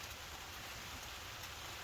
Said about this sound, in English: I knew it was to be pouring with rain.